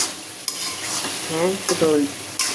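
Spices frying in a cooking pot in a home kitchen, a close hiss and sizzle with a few sharp scrapes and knocks of a utensil stirring against the metal.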